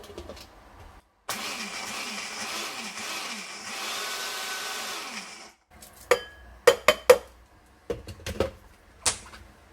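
A kitchen blender grinds roasted sesame seeds and peanuts in a loud, steady, pulsing whir lasting about four seconds, followed by several sharp knocks and taps nearby.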